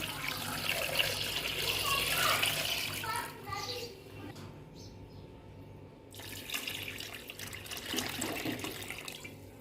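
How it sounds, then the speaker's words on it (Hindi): Water pours into a pot of jaggery in a steady, splashing stream that runs for several seconds, briefly pauses, then resumes, close and fairly loud, with a voice faintly heard in the background. "इतना पानी शामिल करूंगी जो गुड़ है ना वो अच्छी तरह से इसमें डिप हो जाए।"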